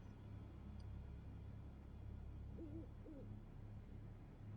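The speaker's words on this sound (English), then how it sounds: "It's an owl." An owl hoots twice in a dark horror video game forest, the soft low calls rising faintly over a constant rumbling ambient drone.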